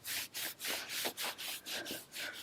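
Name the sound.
hands rubbing and massaging legs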